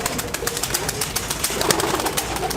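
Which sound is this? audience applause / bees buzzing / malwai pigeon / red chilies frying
malwai pigeon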